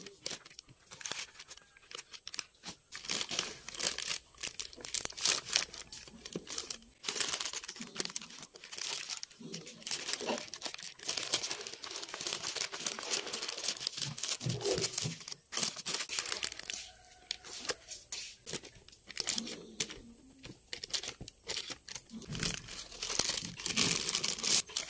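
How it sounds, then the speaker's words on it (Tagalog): Parchment paper is crinkled and pressed flat inside a container while preparing no-bake graham bars, giving steady close crumpling and rustling with a few tearing-like crackles throughout. "Dito sa lalagyan, naglagay lang ako ng parchment paper. At i-flat lang natin."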